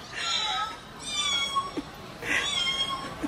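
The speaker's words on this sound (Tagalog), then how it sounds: "Gato. Pusa daw, pusa." A cat gives a few drawn-out meows close by, one at the start and another near the end, over low background noise.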